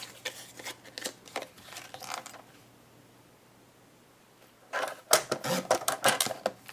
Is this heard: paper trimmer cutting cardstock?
yes